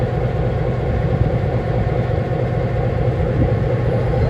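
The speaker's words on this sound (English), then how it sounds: "This locomotive on your train today, folks, is locomotive 606, built new in 1954 by the Electron Motor Division of General Motors." EMD diesel locomotive number 606, built in 1954, idles steadily on a turntable, a continuous low rumble with broadband mechanical noise holding at a constant level throughout, no talk over it.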